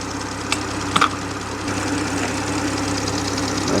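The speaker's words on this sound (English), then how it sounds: "And now we are waiting the engine to heat and to check the cooling system for exhaust gas leaks." A BMW 540i engine idles steadily while warming up after a rebuild, a continuous low mechanical hum with a couple of brief clicks near the start and no talking.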